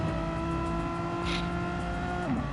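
Race cars in close wheel-to-wheel racing in the ZFS sim racing game's Megane Trophy series, with a steady loud engine drone holding high revs and a brief shift in pitch near the end, and nobody talking.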